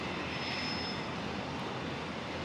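Jet airliner taking off from runway 01 right at Brisbane airport, a steady broadband roar heard continuously at moderate distance, with no voices over it.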